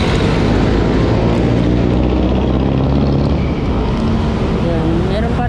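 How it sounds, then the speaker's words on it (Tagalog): Noisy motorcycles run along a road near railway construction on the NLEX-SLEX connector. Their engines make a steady, loud, close rumble throughout. "Dami na maingay na mga mga motor."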